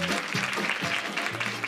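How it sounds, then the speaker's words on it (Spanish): Studio audience applauding on a Spanish TV quiz show, a dense, steady wash of clapping that stays loud and even for under two seconds with no one speaking. "Y ahora aplaudís si os venís arriba."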